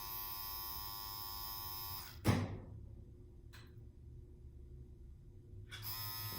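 Rattlesnake rotary pen tattoo machine run at about 9 volts, a steady electric buzz that stops abruptly after a sharp click, then starts again near the end of the clip.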